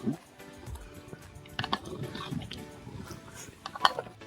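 Chicken biryani, two kilos cooked outdoors by a river, stirred in a pot with a ladle: faint scraping and occasional metallic clinks close by, with quiet background noise.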